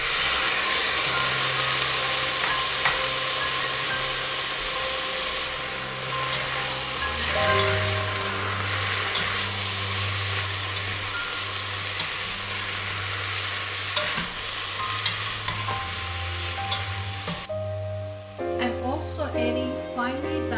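Diced tomato going into green beans frying in a pan, a steady sizzle with stirring scrapes and a low hum underneath, ending with a few clinks of a utensil.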